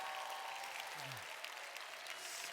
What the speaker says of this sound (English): Can we just give my granddaughter the biggest round of applause?